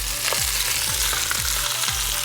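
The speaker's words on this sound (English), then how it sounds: "I'm adding my veggies." Vegetables going into a pot of Jamaican oxtails, a loud close frying sizzle with several regular stirring sweeps, roughly four in a row, and no voices.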